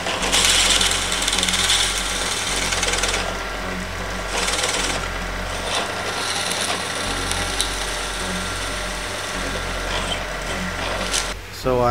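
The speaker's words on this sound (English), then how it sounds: "So I'm drilling holes and I'm adding these 1/4-20 threaded inserts" A power drill bores holes in wood for 1/4-20 threaded inserts while building a benchtop router table, a steady close whirring grind that runs nearly unbroken for about twelve seconds.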